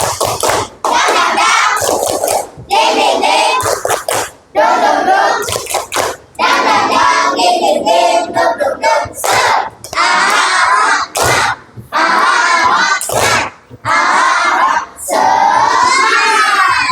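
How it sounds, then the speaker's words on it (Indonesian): Elementary schoolchildren in a classroom perform a tepuk semangat chant, loud rhythmic bursts of clapping alternating with shouted chanting voices in a quick call-and-clap pattern, close and energetic for the whole stretch. "Kita tepuk semangat dulu, tepuk semangat."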